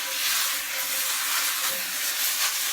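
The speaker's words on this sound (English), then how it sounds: "I just use a little bit of water to steam any of that kind of stuff right off of there" Water hissing into steam on a hot greasy surface under a paper towel, a continuous close sizzle and hiss that swells slightly and holds steady without pause.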